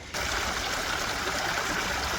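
Steady water trickling over a log and spilling into a backyard waterfall pond, a continuous close splashing flow that starts abruptly and runs unbroken.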